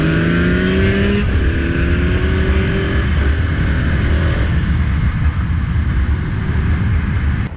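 A 2020 KTM 690 SMC R single-cylinder motorcycle revs loudly up close, its engine note climbing in stepped pitch sweeps, then settling into a steady rough drone before it cuts off abruptly.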